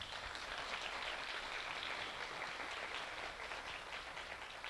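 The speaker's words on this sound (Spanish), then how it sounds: "Les pido que le demos un fuerte aplauso" An audience at an academic gathering applauds a speaker with steady, dense clapping that stays even for several seconds, sounding fairly distant and soft.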